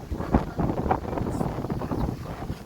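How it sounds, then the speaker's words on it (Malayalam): Strong gusting wind buffets the microphone on a misty mountain route in heavy fog and rain, a continuous rough rumble with uneven surges, loud and close, with no voices. "അടിച്ച് വീശുന്ന നല്ല സുന്ദരമായ കാറ്റും മഞ്ഞും"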